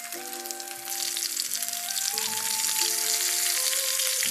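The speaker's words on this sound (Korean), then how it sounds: "요렇게 기름이 끓으면 깨다시가 춥지 않도록 따뜻한 기름에 넣어주면 되겠죠" Battered kkaedashi crabs drop into hot oil and deep-fry, a steady sizzling crackle that swells after the first second and holds, with a soft melodic tone underneath.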